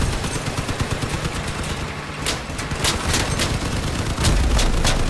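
Machine guns fire in the vehicle-combat game Crossout in rapid bursts of sharp, crackling shots. The fire grows denser toward the end and is joined by a heavy low boom. No one talks.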